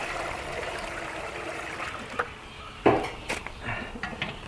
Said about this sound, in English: Right now I'm pouring sap through a screen.